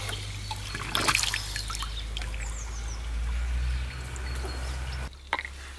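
Water is let into the intake of a hydraulic ram pump being restarted after a winter break, trickling and gurgling steadily up close with a low rushing hum, then cutting off near the end, while birds chirp faintly outdoors.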